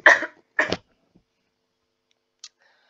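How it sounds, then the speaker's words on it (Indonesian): Two sharp coughs in quick succession from one person in a quiet room, the second slightly after a short pause, followed by near silence with a faint click. "Maaf batuk."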